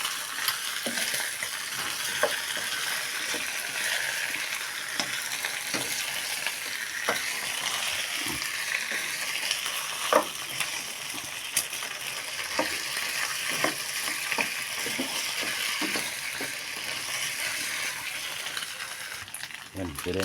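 Pork ribs with tomato paste stirred and sizzling in a pan, a steady frying hiss with scattered scrapes and clicks of a utensil against the pan throughout.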